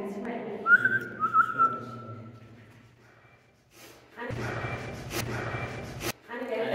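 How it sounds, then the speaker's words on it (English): A short, clear whistle rises and wavers twice near the start, followed by a quiet stretch, then muffled rustling and thumps with voices. "I heard the whistle, I heard it."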